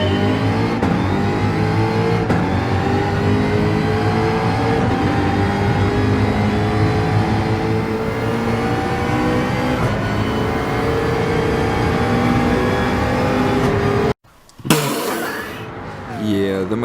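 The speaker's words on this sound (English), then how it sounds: "As the grid rolls up to the line, let's begin in the Jaguar's cockpit to see how much better it is off the line." Race cars in the Gran Turismo racing game roaring off the starting line from a Jaguar cockpit view, a loud sustained engine drone with climbing revs that cuts out abruptly near the end, with no talking.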